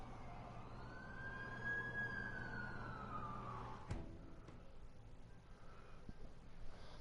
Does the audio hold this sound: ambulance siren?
yes